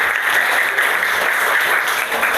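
Children in a Year 5 elementary classroom clap together, a dense, steady patter of many small hands that stays even and fairly loud from start to finish.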